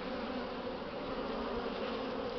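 A dense, steady buzz of honey bees returning with hazel pollen loads at the start of the season, continuous and fairly close with no voices.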